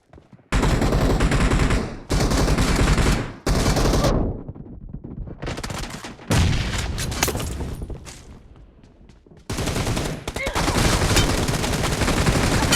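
Rapid bursts of automatic gunfire in the video game PUBG, several loud close volleys broken by brief gaps, with quieter rattling exchanges and faint game voice lines mixed in.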